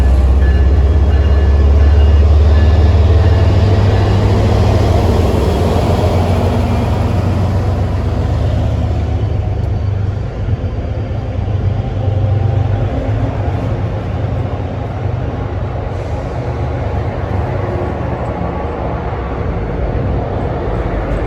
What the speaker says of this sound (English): And that was a train bound for Needham Heights.